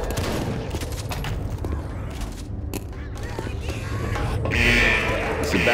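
Rapid gunfire bursts in the zombie shooter Left 4 Dead 2, loud and dense shots clattering over several seconds amid chaotic game noise, with voices shouting.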